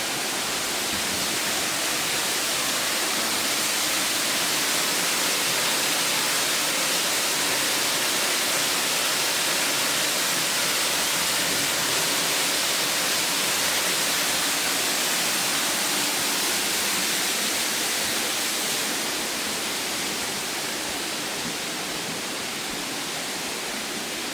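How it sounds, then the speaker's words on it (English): A waterfall inside White Scar Caves in Yorkshire makes a loud, steady, broadband rush of falling water. It continues unbroken throughout with no other sounds on top. "That's the waterfall there."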